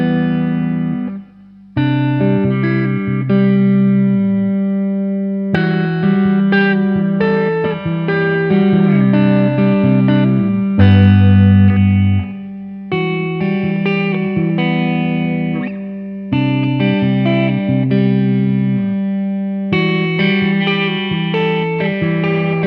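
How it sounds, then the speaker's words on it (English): Electric guitar played through a Blackstar Studio 10 EL34 valve amp with reverb set to 10, ringing chords and notes washed in heavy reverb, loud and continuous with short pauses between phrases. "So this is the reverb on 10."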